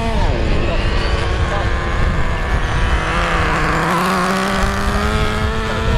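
A Traxxas Nitro Slash 3.3 nitro RC car engine runs steadily throughout, its high whine rising and falling in pitch as the car is driven during break-in, loud and close with a voice talking over it.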